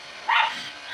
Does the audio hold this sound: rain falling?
no